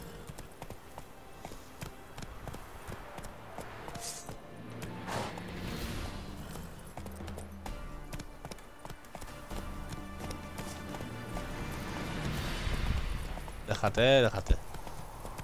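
Hooves of Roach, the horse in The Witcher: Wild Hunt, clip-clopping along at a steady gait with game sounds around, while someone talks over it.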